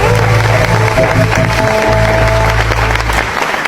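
A studio audience applauds continuously, a loud, dense wash of clapping that holds steady for several seconds, with a faint tone underneath.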